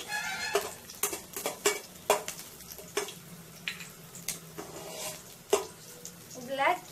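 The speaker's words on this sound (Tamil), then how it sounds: "பூண்டும் போட்டு நல்லா வதக்கி விட்டுக்கோங்க" Garlic sautéing in a pan while making a fish curry without coconut, with repeated sharp clinks and scrapes of a spoon against the pan over a quiet sizzle.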